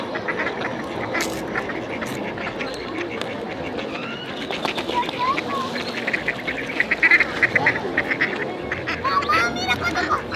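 Ducks in Mexico City quack and squabble in a continuous noisy jumble, with scattered harsh calls rising over a dense, busy background and some voices talking.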